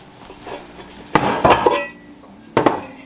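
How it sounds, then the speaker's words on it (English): Standard 8 by 4 inch metal loaf pans are grabbed and set down in a home kitchen, giving two sharp clattering bursts of metal on metal with a few lighter knocks between them, close and fairly loud. "I'm going to grab my loaf pans"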